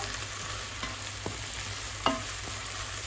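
Barberries fry in a pan with a steady sizzle, and a few sharp clinks of a utensil stirring come through close up.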